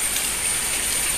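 Steady rain falls in a continuous even hiss on a rainy day at home, with no breaks or other sounds.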